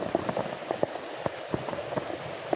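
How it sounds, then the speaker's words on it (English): Heavy rain pours down steadily with a constant close hiss, dotted with sharper patters of individual drops striking a surface, and no voices over it. "It's now raining this side, yeah. Really raining, so heavy."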